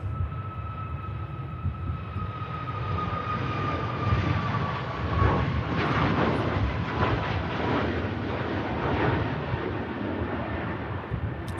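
Icelandair airliner landing at Manchester Airport, a sustained broad jet roar with a slowly falling whine that swells toward the middle and then holds steady, with no voices.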